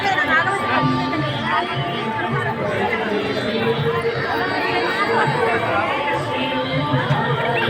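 A large crowd of devotees at Yadadri temple on Shivaratri, a dense steady babble of many voices chattering at once throughout, close and continuous with no single speaker standing out.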